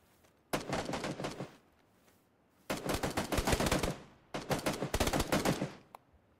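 SKS rifle fire in PlayerUnknown's Battlegrounds, heard as three loud, close bursts of rapid gunshots, each lasting about one to two seconds, with short pauses between them and no talk.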